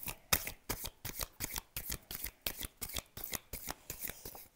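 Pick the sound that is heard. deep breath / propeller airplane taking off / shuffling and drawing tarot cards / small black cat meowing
shuffling and drawing tarot cards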